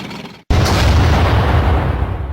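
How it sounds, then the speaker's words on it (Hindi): A tank shell blows up a rock, a loud sudden explosion with a deep sustained rumble that starts after a brief silence and stays heavy through to the end. "सुनो, उस पत्थर को टैंक से उड़ा दो।"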